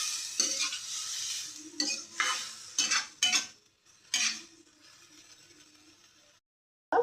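Boti (tripe) pepper fry is stirred and fried in a pan: bursts of scraping spoon-on-metal and a soft sizzle come in uneven strokes, then fade into near silence.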